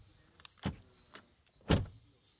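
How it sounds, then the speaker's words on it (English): Car door on a VW ID.7 electric sedan, heard as a couple of soft mechanical clunks with a louder, fuller thud at the end, close and clear with no talking. "Door closing sound."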